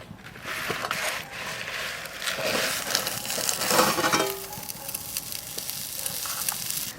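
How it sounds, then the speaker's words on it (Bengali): Eggs fry in a kadai lined with a banana leaf for a country-style egg paturi, giving a steady, close sizzle with soft scraping and stirring sounds throughout. "ডিম কড়া কড়াইতে দিয়ে দেবো"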